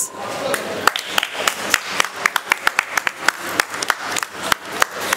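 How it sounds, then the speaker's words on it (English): Clapping rings out at close range, sharp, steady claps over a broad hiss of applause from a group of people. "Round of applause."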